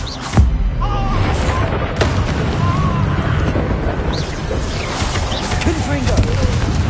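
Confringo blasting spells explode in a Hogwarts Legacy battle, a deep boom opening the stretch amid a dense, continuous roar of combat effects, with further blasts and impacts layered through the busy game mix.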